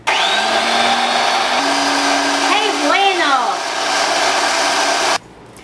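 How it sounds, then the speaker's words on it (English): A blender pureeing chicken and green chile soup makes a loud motorized whir that runs steadily for about five seconds with a shifting pitch, then cuts off abruptly. "now I'm going to give it just a whirl in the blender"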